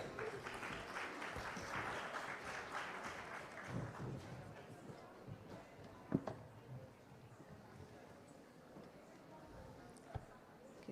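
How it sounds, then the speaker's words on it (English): Audience applause welcoming panelists at an AI development panel event, a burst of many hands clapping that fades after about four seconds into quieter room noise, with a few knocks and faint voices following. "let's welcome them with a big round of applause"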